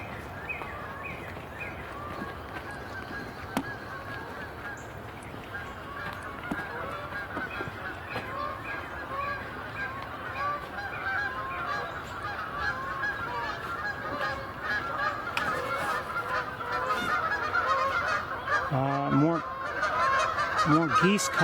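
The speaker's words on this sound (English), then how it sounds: "More geese coming in." Geese honk repeatedly at a wetland as more birds fly in, their calls layered and growing louder and closer toward the end over steady outdoor background noise.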